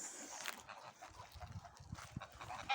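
Geese give a few honking calls at a distance, faint and scattered among quiet outdoor background noise.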